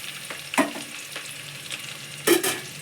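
A spoon stirs a pan of flattened rice tempering as it fries, with soft scraping strokes and two sharper clinks over a low, steady sizzle.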